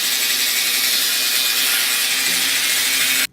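A wrench works in a fast, continuous ratcheting rasp up close while a bumper is mounted on a Toyota Corolla, holding steady for about three seconds before cutting off sharply; no one talks.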